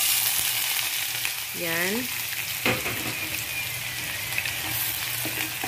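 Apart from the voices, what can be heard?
onion frying and being stirred in a pan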